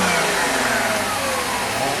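A car engine fitted with a rebuilt fuel distributor runs steadily up close and loud, its tone shifting slightly as the throttle is worked, with no voices.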